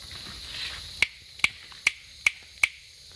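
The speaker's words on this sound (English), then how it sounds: "Clap for me, Danny!" Five sharp, evenly spaced hand claps, close and fairly loud, coming one after another roughly every half second in a jungle setting, with faint background ambience and no voices.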